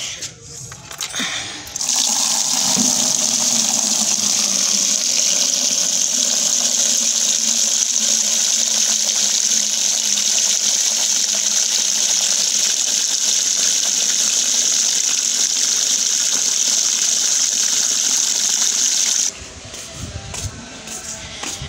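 Tap water gushing steadily into buckets at home, a loud continuous hiss and rush that starts abruptly, runs unbroken for most of the stretch, then cuts off near the end.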